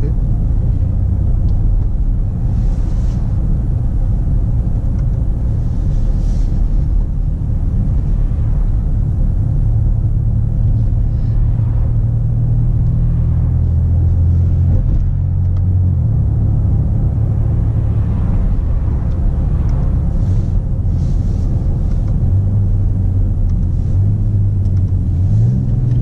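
A BMW X5 M50d accelerates, heard from inside the cabin as a loud, steady low rumble of engine and road noise, with engine tones rising and shifting through the gears over a long stretch.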